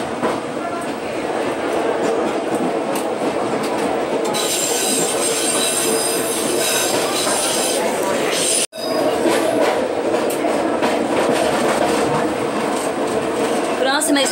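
A Cariri metro train pulls out of its garage in Crato with steady, loud rail rumble, wheel squeal and clatter filling the whole span, broken only by one brief dropout midway.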